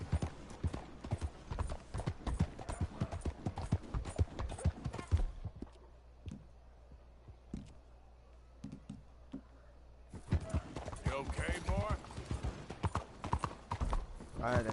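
Horse hooves clip-clop steadily in the Red Dead Redemption video game, a dense rhythmic run of clops that pauses midway, with voices talking over parts of it.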